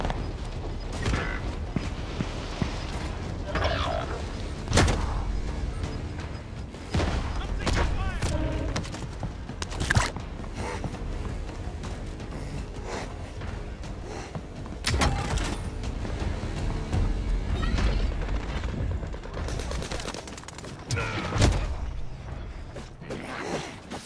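Gunfire in the zombie video game Zombie Rebirth, with repeated sharp shots and thuds breaking through a busy, creaking mechanical background while a player talks over it.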